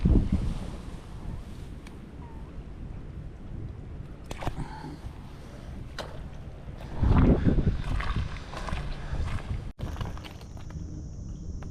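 Wind buffets the microphone at a tidal shoreline while fishing for flathead, a steady low rumble throughout with a louder gust swelling midway, alone with no talk.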